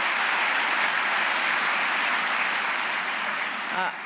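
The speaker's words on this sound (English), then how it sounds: "let's give them a wonderful round of applause" Steady, dense applause from a large audience at a Let's Move anniversary event, loud and sustained throughout, tapering slightly near the end.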